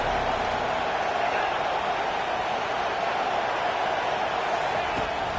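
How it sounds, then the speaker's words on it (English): A stadium crowd in a college football video game keeps up a steady, loud roar of cheering with no breaks, and muffled voices sit underneath it. "Listen to this crowd just shaking the girders of this place trying to help their defense"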